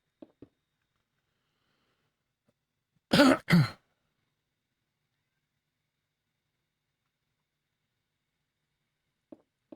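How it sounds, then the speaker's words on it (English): Two quick, harsh coughs close together, loud and near, with silence before and after. "if this cough carries on and gets worse"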